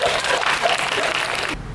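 A studio audience at a film talk event breaks into dense, loud applause that carries on evenly, then cuts off sharply near the end.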